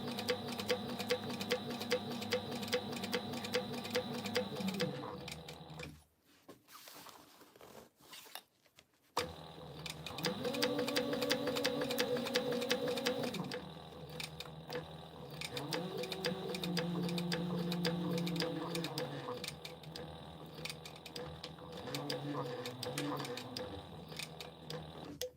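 A sewing machine stitches a crossbody bag in repeated runs, its fast rhythmic ticking and motor whir close and steady, pausing briefly between seams with a few quiet handling sounds.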